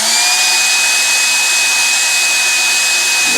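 A loud, steady high-pitched whine of a power drill motor spinning continuously, driving a screw being lightly rubbed with a 100 grit nail file, with no pauses or voices.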